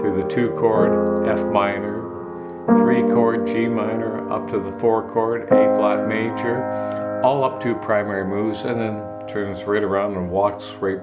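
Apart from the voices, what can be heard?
No distinct noise like a dog, phone or traffic.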